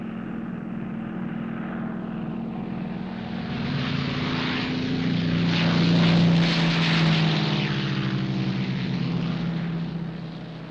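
A propeller airplane engine droning steadily nearby in a wilderness setting, swelling louder toward the middle as the plane passes close, then easing slightly, with no voices over it.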